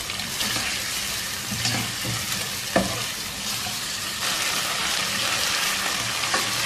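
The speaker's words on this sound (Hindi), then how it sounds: "और अब इसको अच्छी तरह से इस तेल में 4-5 मिनट पकाएंगे कि ना सिर्फ इसकी रंगत जो है वो गोल्डन ब्राउन हो जाए बल्कि ये आधा पक जाए।" Chicken pieces fry in hot oil for a Pakistani-style chicken aloo shorba, giving a continuous dense sizzle with a few faint utensil knocks and no talking.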